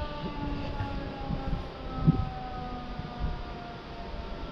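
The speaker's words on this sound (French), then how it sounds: "On entend une sirène là-bas." A siren wails far off outdoors. Its drawn-out tones rise and fall slowly beneath a steady low rumble of wind and background noise.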